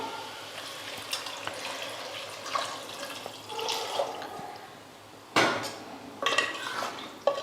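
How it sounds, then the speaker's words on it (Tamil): Water splashes and trickles into a pot amid clinking of metal cookware and utensils, with a few louder clanks near the end. "இப்போ தண்ணி சேர்த்துக்கலாம்"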